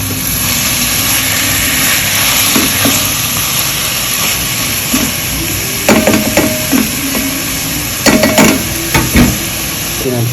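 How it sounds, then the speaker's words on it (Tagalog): Chicken sizzling steadily in a hot pan, with scraping and clanking of a spatula stirring against the metal in irregular bursts. "So gagisa natin yung manok."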